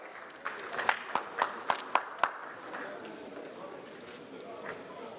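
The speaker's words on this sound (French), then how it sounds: "Vos applaudissements, s'il vous plaît." Audience applause at an insurance and finance conference panel: a few sharp, distinct claps in a quick rhythm, then a softer scattered patter of clapping from the room, fairly faint overall.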